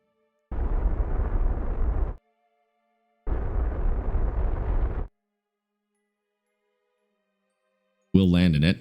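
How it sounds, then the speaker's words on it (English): A probe crashes and explodes in Kerbal Space Program, impacting at about 70 to 80 meters per second. Two loud, dense roaring blasts of about two seconds each, separated by a short silence, with a brief warbling tone near the end. "Actually exploded pretty clean."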